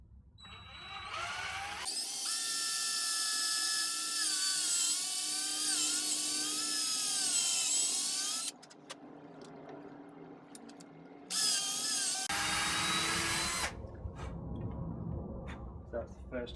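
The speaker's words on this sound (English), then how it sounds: "I'll then swap over for the larger drill bit and probably go in only about halfway." A power drill bores a hole into green wood for a new drawknife handle, a loud sustained whine with shifting pitch that runs in long bursts, stopping and restarting, with brief quieter gaps between.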